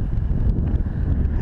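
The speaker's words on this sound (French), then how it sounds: "Mais il y a une véritable tempête de vent" Strong storm wind roars and buffets the microphone outdoors beside a small stream, making a loud, steady, low rumbling blast with no speech.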